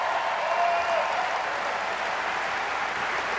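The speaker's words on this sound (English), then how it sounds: "Give Jim Webb a big round of applause." An audience applauds at a political dinner in Virginia, a dense, even wash of clapping from a large crowd that stays steady from start to finish.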